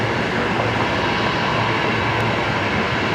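A Qantas airliner from Sydney arrives at Brisbane Airport on runway 01 right, its jet engines a loud, steady roar that fills the whole moment without a break.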